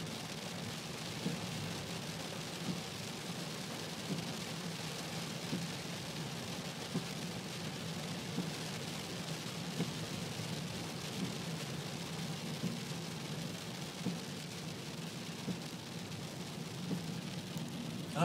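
Rain mixed with hail falls steadily during a thunderstorm in East Yorkshire, a dense even hiss with faint scattered ticks running unbroken throughout, no voices present.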